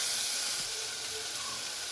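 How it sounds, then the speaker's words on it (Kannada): Drumstick vegetable curry frying in a pan, a steady soft sizzle and hiss that holds evenly throughout without a break. "ಈಗ ಫ್ರೈ ಆಗ್ತಾಯಿರೋದು."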